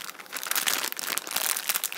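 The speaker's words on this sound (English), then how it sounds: "some people really like the crunching sound of the bags." A plastic packaging bag is crinkled and crunched continuously up close, a dense, steady rustling with no voices.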